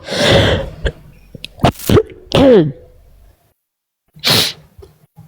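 A few sharp, harsh coughs in quick succession, then a pause and one more burst, close and fairly loud with no talking.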